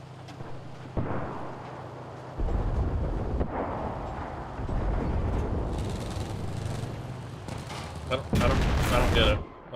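Scattered gunfire and distant explosions on a WW2 battlefield in the game Enlisted, irregular shots and rumbling blasts with a louder volley near the end, a voice talking over them at times.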